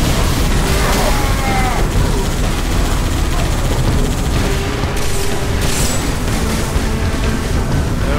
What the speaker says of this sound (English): Oh good, the bridge intercepts the mortar.